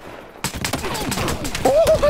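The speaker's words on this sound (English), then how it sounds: "I got him with a nail gun!" Nail gun firing in Battlefield Hardline multiplayer on PS4, a rapid burst of sharp repeated shots following a brief silence, with game effects and a faint whine layered over the end.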